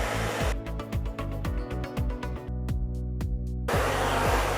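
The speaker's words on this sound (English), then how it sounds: "we want to catch the hair and bring it all the way up and dry into your hands" A hair dryer blows steadily on curly hair during styling, its continuous airflow whooshing loudly with brief shifts in tone as the air is directed into cupped hands.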